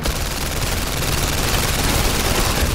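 Sustained automatic gunfire from Uzis in the London Heist VR video game, a dense continuous rattle of shots at high loudness throughout.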